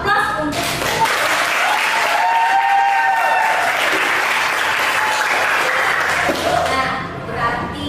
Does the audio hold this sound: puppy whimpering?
no